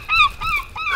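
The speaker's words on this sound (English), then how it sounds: "Oh, there's seagulls." Seagulls call at a rocky beach, three loud, close, harsh squawks in quick succession with no talk over them.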